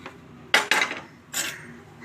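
A pressure cooker holding cooked sweet pongal has its weight lifted off and its metal lid opened, giving two close, sharp clanks in quick succession followed by a softer metallic clatter, with no voices.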